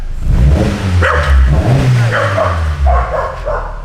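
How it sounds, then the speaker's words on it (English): A dog barks a few times near a revving turbocharged BMW E36 engine, the barks mixed into steady low engine rumble with brief yips between. "Tucker, who you barking at?"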